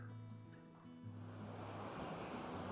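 Water of Calypso Cascades in Rocky Mountain National Park rushes in a steady broadband roar that builds and fills the scene, with a low hum and some wind buffeting the microphone.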